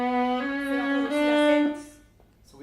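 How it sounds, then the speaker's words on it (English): Two bowed string notes sound close and clear, the second sustained note swelling into an accent from an even bow weight before fading out, heard alone. "If you use the same bow weight for both notes, you'll get an accent."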